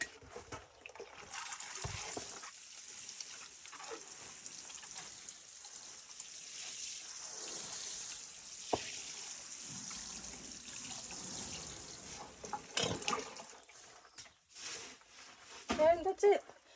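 Water poured from above onto choi sum seedlings in a garden bed, a continuous splashing trickle for several seconds, fairly close, with a voice speaking briefly near the end.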